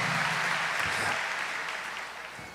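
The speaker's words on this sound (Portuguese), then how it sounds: "pode aplaudir" An audience at a talk on married life applauds steadily, a dense wash of clapping that continues throughout and tapers slightly toward the end.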